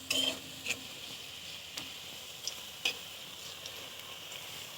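Bottle gourd leaf fritters sizzle steadily in hot oil, a soft continuous hiss with a few sharp clicks of a utensil against the pan.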